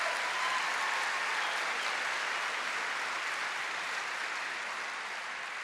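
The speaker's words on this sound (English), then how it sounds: "Let's give them a round of applause" Steady, dense applause from an audience at a school opening event fills the room, a continuous wash of many hands clapping at even loudness with no voices over it.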